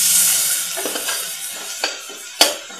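Spiced potato masala filling sautéed in oil in a pan for a potato gravy dish, giving a steady soft sizzle with a few sharp scrapes and clinks of a spoon stirring, close by with no talk.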